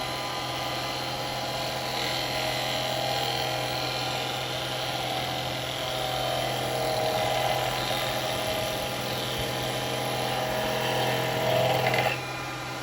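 Push cut on a wood lathe during woodturning: a continuous motor hum with a steady tonal drone, and the tool's scraping hiss rising and falling over the spinning workpiece before easing off near the end.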